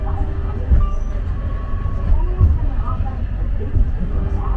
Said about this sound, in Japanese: 山の中の電車だから